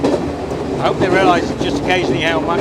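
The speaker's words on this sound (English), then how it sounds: "Everybody's getting the thrill now of riding in the open train." An open train on the Colombo to Kandy line in Sri Lanka rolls along the rails with a steady, rumbling clatter and wind buffeting, while someone talks over it close by.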